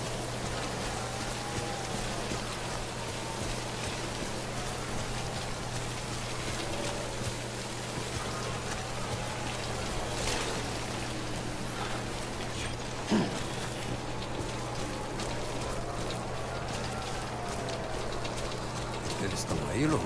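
Steady rain falls on surfaces in the video game Death Stranding as a continuous hiss that runs the whole way through, with a low hum and faint background tones beneath it.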